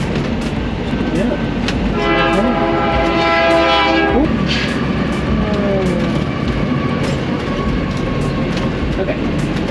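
A long freight train passes in Arizona, its horn blaring in a sustained multi-tone blast for a couple of seconds over a steady rolling rumble of cars, with people talking nearby throughout.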